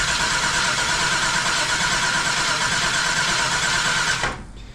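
A 1966 Chevrolet Impala engine cranking steadily and loudly up close for several seconds, a continuous churning whir that then cuts off abruptly without catching, no talk over it.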